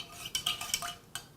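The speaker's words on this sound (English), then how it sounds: "so I'm going to mix everything in here" Aloe vera gel and juice being stirred in a container, faint clinking taps of a utensil against the sides, four or five light knocks in quick succession.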